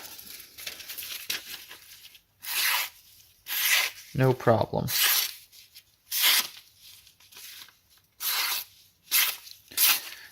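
Spyderco PM2 knife with M4 steel and a factory edge slicing phone book paper, heard as a series of short, loud, crisp tearing swipes about a second apart, with someone speaking briefly between cuts.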